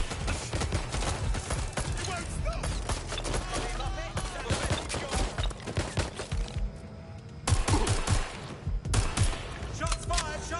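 Dense gunfire from a Watch Dogs: Legion shootout, rapid overlapping shots and bursts rattling almost nonstop, loud and close, with a brief lull before heavy firing resumes, and a voice speaking amid the shooting.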